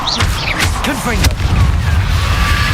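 Confringo blasting spell in Hogwarts Legacy exploding with a heavy boom amid game effects, followed by rumbling debris and lingering ambience, with brief voice-like game sounds early on.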